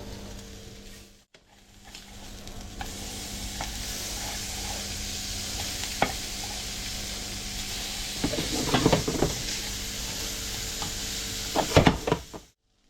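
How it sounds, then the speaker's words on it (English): Fish blackens in a very hot pan, giving a steady hissing sizzle close by that swells midway, with bursts of spattering and clatter near the end before a sudden stop. "if you guessed that I'm blackening this fish, you are correct. I've got that pan really hot."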